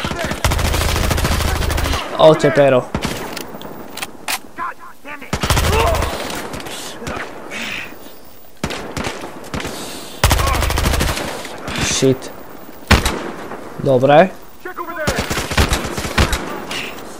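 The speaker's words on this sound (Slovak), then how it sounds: "Však ťa strieľajú" Gunfire in the shooter game Battlefield Hardline: loud bursts of machine-gun and rapid shots come in clustered volleys, with short gaps between them, while players talk and curse over the shooting.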